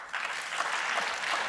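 Steady applause from a lecture audience fills the room for a moment, dense and continuous without a break.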